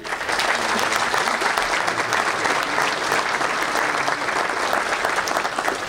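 Sustained applause from a crowd, dense steady clapping that fills the whole stretch without pause.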